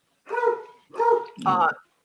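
A dog barks for its evening treats, giving three close, loud barks in quick succession with short pauses between them and no other sound.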